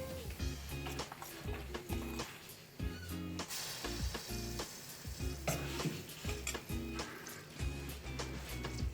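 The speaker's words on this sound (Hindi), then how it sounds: "अब एक लैदा बर्तन में फ्राई पैन में 1 से 2 चम्मच मक्खन डालें।" Butter sizzles in a frying pan while lobia karahi is cooked, with a steady close frying hiss and repeated scraping and stirring clatter against the pan.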